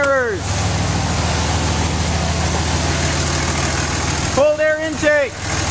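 The 5.9L diesel engine of a 2007 Dodge Ram 3500 dually with a cold air intake idles steadily and loudly up close. Its smooth rumble runs the whole time, and a voice can be heard at the start and near the end.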